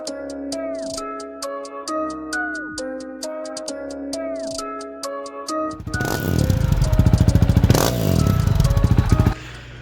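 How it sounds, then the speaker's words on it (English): A 2019 Honda CRF 450L dual sport motorcycle engine starts about six seconds in, a loud close rumble with rapid firing pulses. Before it comes a melodic passage of plucked tones. "This is a 2019 CRF 450L that I picked up about a month ago."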